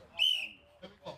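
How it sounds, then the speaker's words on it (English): A referee at a Lancashire strongman competition blows one sharp, fairly close whistle blast lasting about a quarter second, followed by a couple of faint, soft background noises. "On the whistle."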